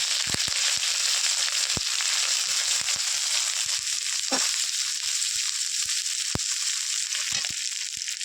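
Loud, continuous sizzling and crackling of ginger paste sautéing in a pan, with scattered sharp pops and spatters throughout, close up and without any talking.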